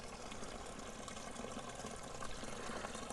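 A small pump-driven garden water feature trickles steadily in a mulched border, a soft continuous splashing and bubbling at low level with no talking.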